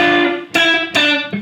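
A lead guitar plays a lick from the solo of a country song: a held note, then a few distinct picked notes with pull-offs, close and fairly loud, with no talking.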